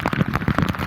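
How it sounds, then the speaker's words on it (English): Steady rain falls during a hillside trek at Sudhagad, a dense, continuous patter of drops on surfaces close by, with no voices over it. "there is quite a bit of rain"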